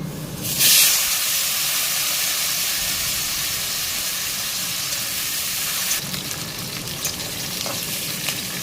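Potatoes, cauliflower and peanuts fry in oil for khichuri, giving a dense, even hiss and crackle that runs throughout, with a brief louder burst near the start and a slight change in texture later; no one speaks.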